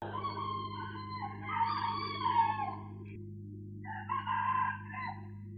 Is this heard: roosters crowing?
yes